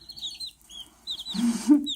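One-week-old chicks, including a Speckled Sussex and an Ameraucana, cheep in high, thin peeps, followed by a louder, lower burst of clucking near the end, close and alone.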